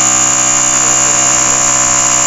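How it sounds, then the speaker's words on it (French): AUTOXEL 120 PSI cordless portable air compressor pump running steadily while inflating a ball, a loud, constant droning hum with a high whine, heard alone and close. "vous entendez hein, la pompe est bruyante"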